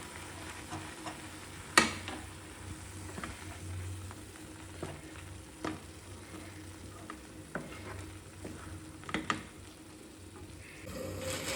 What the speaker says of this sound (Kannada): ಈಗ ನೋಡಿ ಹಿಂಗೆ ಒಂದು ಸೈಡಿಂದ ಕಲಿಸ್ಕೊಡಿ.